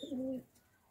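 A single short, soft coo from a laldume breed pigeon, low and throaty, followed by quiet.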